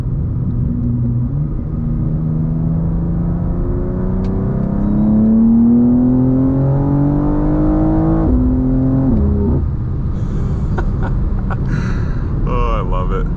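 A brand-new BMW M2 CS (G87) with a flash tune pulls hard under acceleration, its engine note climbing loud and close before a quick gear change, then settling into a road rumble with a few faint clicks.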